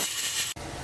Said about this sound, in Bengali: তার মধ্যে পেঁয়াজ আলুটা দিয়ে ভাজছি ভালো করে।